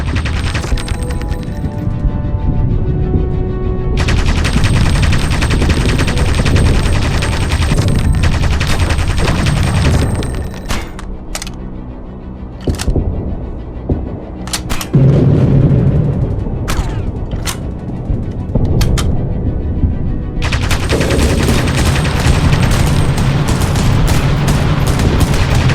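Heavy gunfire from the video game Aviators: loud sustained bursts and booming shots fill most of the passage, with a brief lull of scattered single shots in the middle before the heavy firing resumes.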